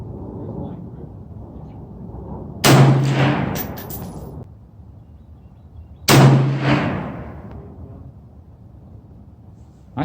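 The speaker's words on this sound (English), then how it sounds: "now I'm gonna be shooting out to 100 yards" Two loud rifle shots from a Browning deer rifle fired at a 100-yard target outdoors, each a sharp crack with a long rolling echo, spaced a few seconds apart over faint background noise.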